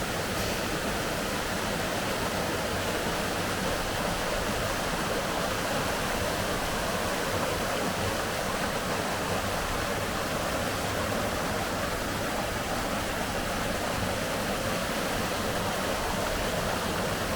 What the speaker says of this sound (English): we do like waterfalls and the sound of water